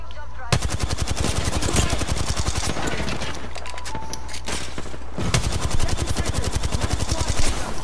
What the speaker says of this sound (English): Getting shot from the side, I'm getting shot from the side.